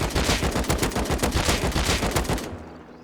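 An AK assault rifle in the Rust video game fires one sustained, loud burst of rapid automatic shots for about two and a half seconds, then cuts off abruptly into near silence.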